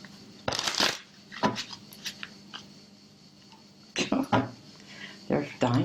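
Tarot cards shuffled by hand at close range in several short, crisp riffling bursts separated by quieter gaps, with faint low background noise between them.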